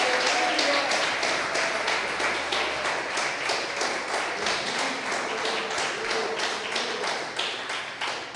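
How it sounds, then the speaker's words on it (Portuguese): A church congregation claps in praise for several seconds, a dense run of rhythmic hand claps fairly close and steady, with faint voices mixed in and a low hum that drops away partway through. "Dê uma salva de palmas ao Senhor"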